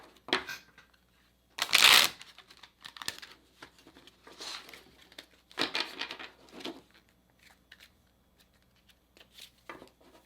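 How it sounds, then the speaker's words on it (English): Oracle cards are shuffled by hand in irregular bursts of riffling and crisp slapping, loud at first, then lighter rustles with pauses between. "Let's pull the Oracle card to kind of soften the mood here."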